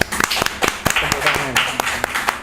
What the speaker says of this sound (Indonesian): Kita berikan tepuk tangan dulu boleh?